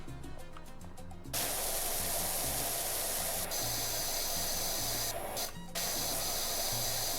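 A pressure washer sprays in PowerWash Simulator 2, a loud hissing jet that starts abruptly after a quiet moment and runs almost continuously, cutting out briefly twice before resuming.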